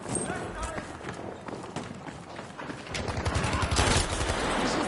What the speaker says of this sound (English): With a nice headshot to help Steve out there.